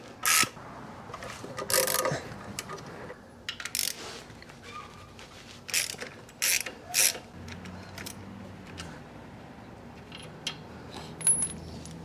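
Close mechanical ratcheting and metallic clicks from a wrench loosening the front crash bar mount bolts on a 2024 BMW R1250 GSA, coming in short irregular bursts with quiet pauses between, no talking.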